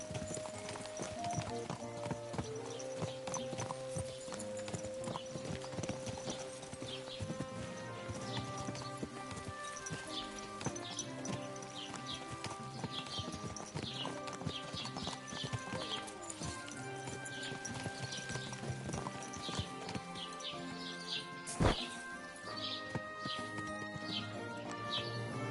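Horse hooves clip-clop steadily in Kingdom Come Deliverance 2, a continuous rhythmic gait with an occasional whinny and faint birdsong, set against game music and voices speaking.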